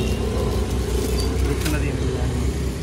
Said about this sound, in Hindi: यहाँ करते गाड़ी पार्क